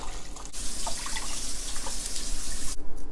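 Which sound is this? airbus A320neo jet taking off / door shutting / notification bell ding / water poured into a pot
water poured into a pot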